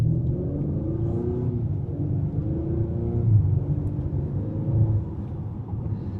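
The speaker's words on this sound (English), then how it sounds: "it's going to have a little bit of an enhanced engine and exhaust sound." An Acura RDX SH-AWD A-Spec in sport mode rumbles steadily from inside the cabin, its enhanced exhaust note rising and falling slightly as it revs through gentle acceleration.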